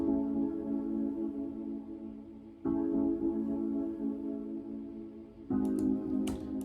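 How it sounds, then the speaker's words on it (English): Sustained synth chords from an Omnisphere patch played in FL Studio with no arpeggiator, three long held chords changing about every three seconds, steady and mellow, with a few faint clicks near the end. "I'm gonna just play the chords without the arpeggiator."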